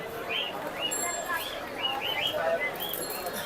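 Pigeons at a busy pigeon market in Mirpur, Dhaka give soft chirps and short calls, repeated at a moderate distance over a murmur of crowd noise.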